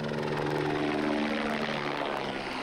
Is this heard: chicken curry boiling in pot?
no